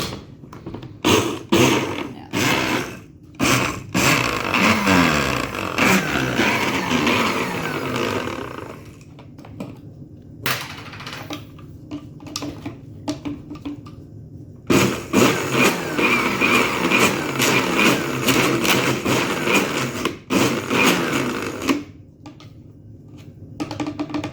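A mixer running while making berry sorbet, loud pulsing machine roar in bursts with pauses and a rhythmic churning, heard up close without voices.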